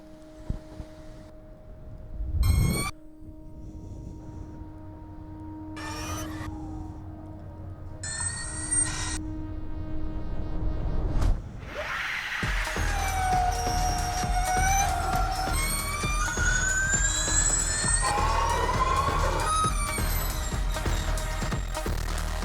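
A Formula E electric race car drives through New York City streets, its high whine rising and falling against city noise after sparse bursts of sound and a loud thump, continuing steadily near and loud.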